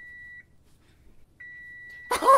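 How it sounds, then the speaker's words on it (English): An oven timer beeps to signal that chicken tenders are done: a steady high electronic tone sounds in two spaced bursts, a short one and then a longer one, before a loud burst of voice cuts in at the end. "I could still hear the beeping."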